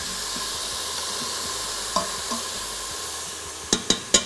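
Onions saute in an Instant Pot, a steady even sizzle and hiss up close, with a few soft stirring knocks and three sharp taps of a utensil on the rim at the end, no talking.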